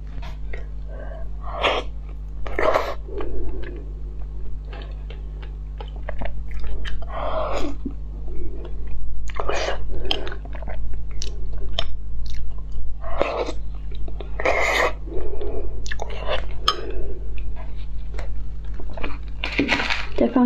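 Close, crisp chewing and crunching of spicy food and sweet ice cookies, loud bites and squishy munches that come in irregular bursts over a steady low hum, with occasional soft sniffs between mouthfuls.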